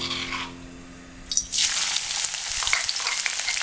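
After a quiet moment, crushed onion hits hot coconut oil for potato mezhukkupuratti and bursts into a loud, close, continuous sizzle with light stirring.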